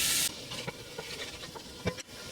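Loose sausage meat, out of its casing, sizzling in a hot pan, a steady hiss with scattered crackles and pops, near and fairly faint, with no talking.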